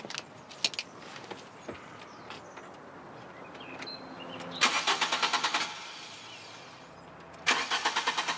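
An old car engine being cranked in a late-1990s German street scene, the starter grinding in two rapid rhythmic bursts, the first lasting about a second, the second starting near the end, amid quiet background noise.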